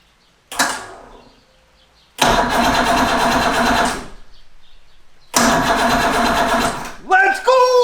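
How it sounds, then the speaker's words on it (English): An outboard engine on a restored Bass Cat bass boat cranks in three long bursts of whirring starter noise separated by pauses, loud and close, before a voice exclaims at the end. "I still don't know if this is hooked up right, but the engine is turning"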